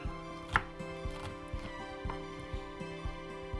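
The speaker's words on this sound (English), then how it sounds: "So I'm just chopping up some onion here" A knife dices a medium onion on a cutting board while preparing beef brisket, giving a run of sharp, regular chops about twice a second, close and fairly quiet over a soft background tone.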